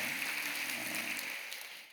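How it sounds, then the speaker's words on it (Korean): A women's mission group applauds together at a church Bible college class, a dense, steady wash of clapping that holds for about two seconds, then thins out and fades near the end. "여선교회 여러분 박수 한번 크게 하시죠"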